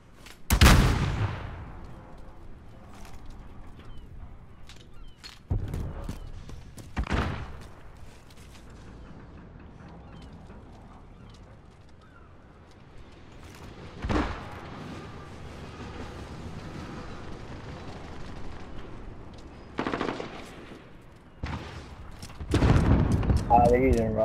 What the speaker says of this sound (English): They're using rocket launchers.